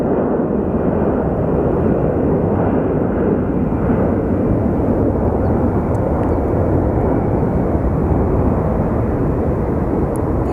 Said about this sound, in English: we have liftoff of our Allegiant Airbus